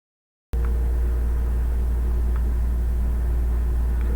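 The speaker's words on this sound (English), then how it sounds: "Now, I will continue to spin the dial as Denison transitions to the stepper motor." Stepper motor under FPGA control running steadily, a close, even electric hum with a low rumble that starts abruptly after a short silence and holds constant with faint ticks.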